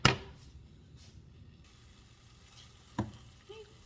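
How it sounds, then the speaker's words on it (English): Flour stirred into a hot pan of fat to start a roux for chicken stroganoff, with a soft sizzle under scattered scraping and clinking of a utensil against the pan, close by. "Then I'm going to add my flour and make a roux."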